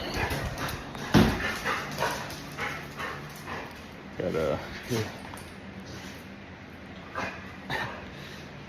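A Boykin spaniel barks a few times indoors, muffled and somewhat distant, while a person talks nearby and footsteps and movement sound in the background.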